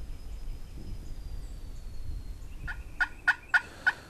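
A wild turkey gobbles during a spring hunt, four sharp rattling gobble pulses close together near the end, after a quiet stretch of faint woodland background.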